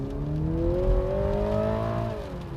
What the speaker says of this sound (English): Let's move on back on the road and accelerate in normal